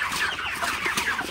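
Broiler chickens on a farm cluck and chatter continuously, a dense flock sound with overlapping calls and no talking.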